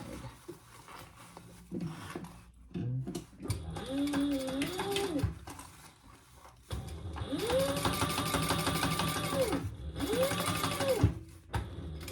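A sewing machine topstitches beside a zipper on a fabric zipper case, running in two sustained bursts with a steady rapid needle rhythm and whirring motor, separated by brief pauses and handling noise.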